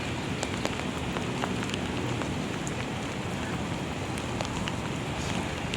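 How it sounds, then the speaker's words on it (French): Heavy rain pours down in the Provence countryside, a dense, loud, unbroken hiss of water on surfaces, scattered with sharper close drop ticks, with no voices. "现在这个雨下太大了"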